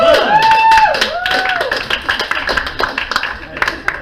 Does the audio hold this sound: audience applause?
yes